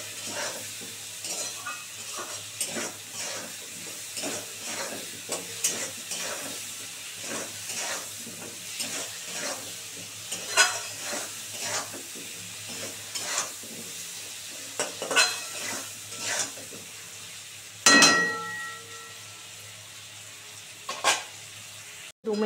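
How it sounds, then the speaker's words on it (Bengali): Potatoes and onions fry with turmeric in a pan over lowered gas, a soft continuous sizzle broken by repeated rhythmic scrapes and knocks of a stirring utensil against the pan, with one louder metallic clatter near the end. "সুন্দর করে গ্যাস কমিয়ে কমিয়ে এটাও আলুগুলো সুন্দর করে লাল করে ভেজে নেব"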